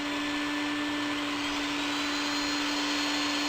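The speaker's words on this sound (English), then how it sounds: "turn this on. This is a vacuum cleaner." A vacuum cleaner runs steadily and loudly, a constant whirring roar with a steady high whine and no pauses.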